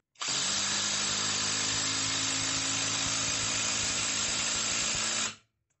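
A ProStormer impact driver drives a 4.8 x 65 mm screw at its lowest torque setting, a loud close buzzing whir that starts abruptly, holds steady for about five seconds with faint hammering ticks, then stops.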